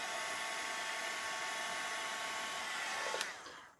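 Hair dryer blowing to dry Distress Oxide inks on paper, a steady loud whooshing roar held close for several seconds before it cuts off near the end.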